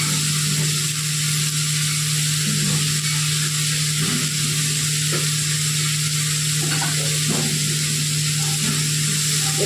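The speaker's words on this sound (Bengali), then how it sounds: "এবার আমি মটরশুঁটিগুলো দিয়ে দিচ্ছি।" Peas tumbling into a hot pan of carrots, beans and paneer, followed by a steady loud sizzle and frying hiss with a low hum beneath, stirring scrapes and small clatters breaking in now and then, no voices.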